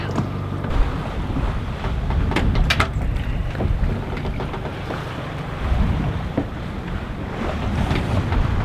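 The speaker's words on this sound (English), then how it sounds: "The engine is on, and we're currently motoring south of Plymouth." A sailboat motors at sea under engine power south of Plymouth, bound for the Scilly Isles; a low engine drone runs under loud wind buffeting the microphone and sloshing water against the hull.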